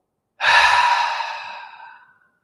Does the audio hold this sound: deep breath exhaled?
yes